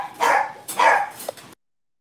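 Pet dogs bark excitedly indoors near a meal, two loud close bursts of barking followed by a shorter yip, then silence.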